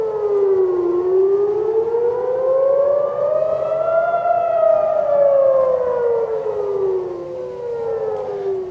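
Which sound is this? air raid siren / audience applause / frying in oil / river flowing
air raid siren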